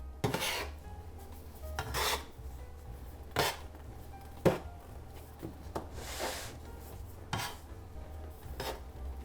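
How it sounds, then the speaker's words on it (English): A dough scraper scraping around the sides of a bowl and folding floured, sticky dough, heard as a series of close, rasping scrapes at irregular intervals with soft rubbing between them. "with the scraper, go around the sides and just fold it on itself"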